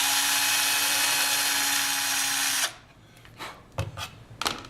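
A small hobby drill with a 1/16 bit whines steadily and loudly for a couple of seconds while boring a hole in a scale model part, then stops, leaving a few light scrapes and clicks.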